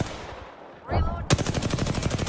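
Video game gunfire bursts in after a short quiet stretch and a brief noise, a rapid, loud string of evenly spaced automatic shots lasting about a second.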